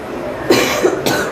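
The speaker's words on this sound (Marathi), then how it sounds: "माझा खोकला असा झाला" Two sharp coughs close by, about half a second apart.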